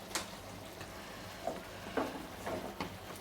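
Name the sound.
stirring chicken chaap frying in a pan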